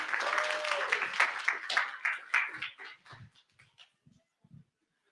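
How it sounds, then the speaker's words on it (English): Audience applause at a tech talk starts full, then thins over a few seconds into scattered, sparse claps before stopping. "Let's get Tecia a hand clap."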